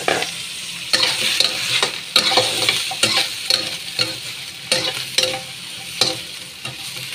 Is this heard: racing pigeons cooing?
no